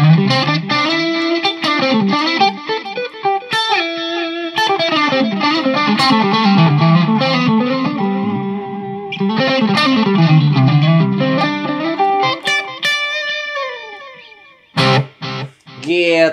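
A Cort G260CS electric guitar plays through a distorted, effect-laden tone, with sustained wavering notes and bends over several phrases. It ends in a few sharp, choppy strums.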